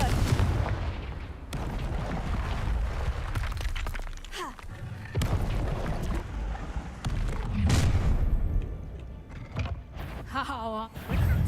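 Confringo blasting-spell explosions burst repeatedly in a Harry Potter video game, heavy booming impacts with crackling debris and whooshing effects, interleaved with faint in-game voices.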